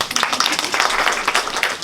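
An audience at a Khodiyar Mata religious katha bursts into dense, continuous applause, many hands clapping together for about two seconds at a steady, fairly loud level.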